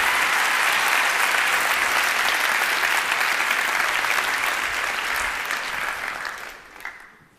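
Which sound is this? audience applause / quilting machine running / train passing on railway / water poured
audience applause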